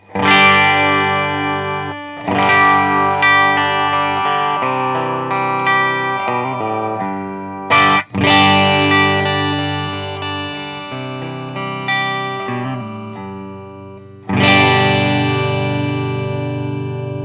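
An electric guitar through a Marshall DSL amp on its low-gain channel strums chords and picks short phrases with a lightly overdriven tone, ringing out with a few pauses between passages.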